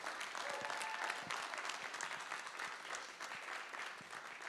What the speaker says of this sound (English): So let's give it one last round of applause for these athletes up here